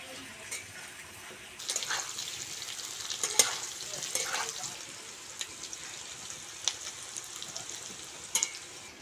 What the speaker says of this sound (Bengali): আলু আর কাঙলটা ভালো করে ভেজে নিয়েছি বন্ধুরা লাল লাল করে